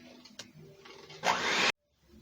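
Electric mixer blending eggs into a butter mixture for banana bread: a brief loud motor whir under a load that rises in pitch, cut off abruptly after faint kitchen clatter.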